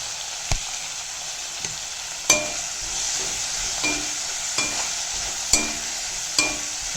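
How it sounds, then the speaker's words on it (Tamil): Bitter gourd sautéing in oil with turmeric, a loud, even sizzle close by, with a few sharp clinks and scrapes of a spoon against the pan spaced a second or so apart, no talking. "நல்லா சுருளை வதங்கட்டும் எண்ணெயில்"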